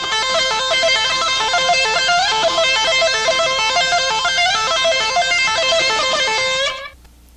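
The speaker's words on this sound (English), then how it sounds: "I'm hammering with the pick, so it sounds like this." Fast electric guitar solo from a 1984 lesson, notes hammered with the pick in a dense, rapid stream of bright, distorted tones for about seven seconds before stopping abruptly and ringing out.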